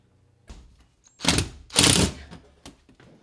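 A screw being driven into a pipe shelf flange on a wall, with short whirring bursts from a powered driver, two main pulses and a few small clicks, close and fairly loud.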